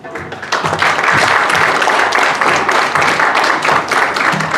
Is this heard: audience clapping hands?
yes